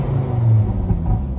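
Ford Focus ST mk2 engine and exhaust giving a loud, steady low rumble at close range, with no voices over it.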